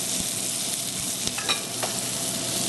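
Olive oil sizzles steadily in a hot pan, a close, continuous hiss with a few sharp pops and crackles and no voices.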